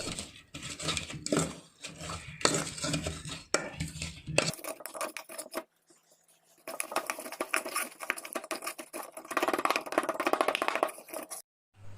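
Ginger, garlic, shallots, green chilli and curry leaves crushed together by hand for a Kerala chicken fry, giving repeated close pounding and grinding knocks in bursts, with a brief pause midway and no talking.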